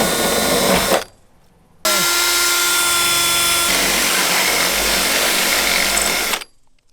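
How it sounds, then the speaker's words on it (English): A power drill bores a hole through the body of a Toyota 4Runner for a wiring grommet, two loud sustained whirring bursts close up with a short pause between them and no talk. "we were going to drill this hole right here and then put a grommet in there"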